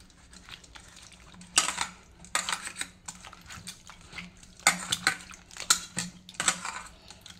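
Peeled raw green mangoes are washed in a bowl of water, with close irregular splashes, sloshes and knocks of fruit against the container in bursts.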